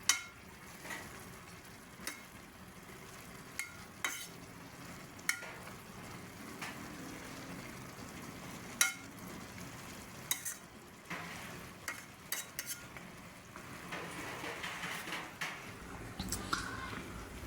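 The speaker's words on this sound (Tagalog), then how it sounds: "Haluin po natin ng maigi." Adobong labong being stirred in a frying pan: a soft background sizzle with repeated sharp clinks and scrapes of the utensil against the pan at irregular intervals, no talking.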